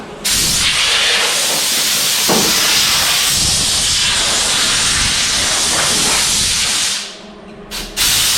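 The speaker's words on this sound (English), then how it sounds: "I believe that's far enough that I can get some welding done" A welder hisses and crackles in one steady, loud, close burst that runs for about seven seconds before abruptly stopping.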